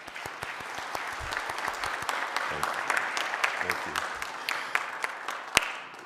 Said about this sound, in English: can we give them a polite round of applause?